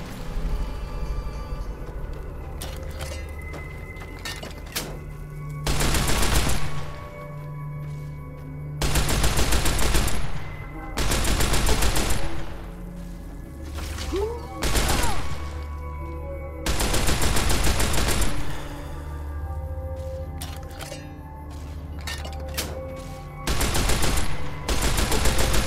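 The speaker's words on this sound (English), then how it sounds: "This weapon shoots slower, but we have a fast shot." Bursts of automatic weapon fire in Fallout: New Vegas, several loud sustained volleys separated by short pauses, with quieter single shots and clatter in between; close and dense, no voices.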